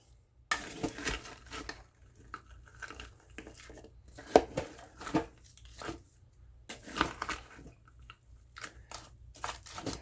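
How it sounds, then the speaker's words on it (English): A spoon stirs frozen broccoli, cheese and Ritz-cracker casserole in a crockpot, making irregular scraping, clunking and crunchy knocks against the pot, close and moderately loud, with short quiet gaps between strokes and no talk. "let's make an attempt to stir all this up."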